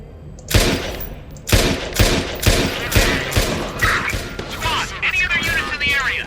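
Rapid gunfire bursts from the video game Watch Dogs 2, a string of loud sharp shots at roughly one-second intervals, with a person talking over the game sounds near the end.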